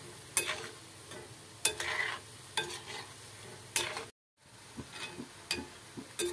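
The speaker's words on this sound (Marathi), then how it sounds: "छान अशी लालसर काढून घ्यायची आहे शंकरपाळी तळून" Shankarpali sweets deep-frying in oil, a faint bubbling sizzle broken by several scraping stirs of a utensil, with a brief silent gap partway through.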